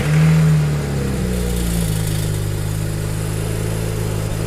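A BMW N54 engine with worn wastegate bushings runs steadily at close range, a loud low drone with a brief rise at the start, then a constant hum and faint metallic rattle underneath.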